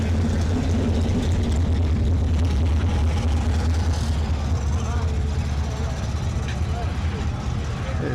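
A big engine stuffed into a small old rat rod runs at a street machine car show, a loud steady low rumble close by under crowd noise and voices.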